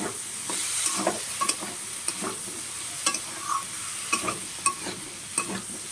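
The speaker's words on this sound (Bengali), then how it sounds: "এখন আমি আলুগুলো দিয়ে দিলাম কড়ার ভিতরে। দিয়ে এটাকে আমি ভালো করে নাড়বো, নাড়তে হবে ভালো করে" Cut potatoes fry in oil in a kadai for a shrimp and spinach dish while a spatula stirs them. A steady sizzle runs underneath irregular, close scrapes and knocks that repeat every half second or so, with no talking.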